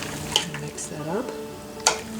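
A spoon stirring blueberry wine ingredients in a pot, soft scraping swirls and a couple of light clinks against the side, close and brief.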